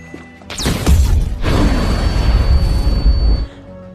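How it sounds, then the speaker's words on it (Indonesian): A room explodes in a scene from the film The Equalizer: a sudden heavy boom with crashing debris and rumbling, loud and sustained for about three seconds before cutting off, no talk. "sebuah ruangan meledak yang menewaskan satu-satunya anggota Teddy yang tersisa"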